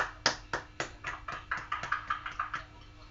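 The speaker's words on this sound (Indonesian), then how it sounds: "berikan tepuk tangan untuk kelompok kedua." A classroom audience gives the second group a round of applause: about a dozen separate, fairly quiet claps in a loose, uneven rhythm over three seconds, with no voices.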